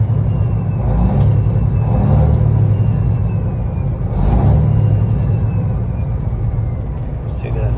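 A Detroit diesel engine in a Peterbilt 389 truck revs up in a few rising, swelling surges over its deep idle rumble, heard up close and loud.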